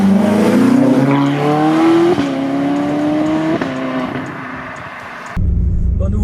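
A Ferrari California engine revs and pulls away loudly up close, its pitch climbing through gear changes with a brief tyre squeal, then dropping to a lower steady drone at the end.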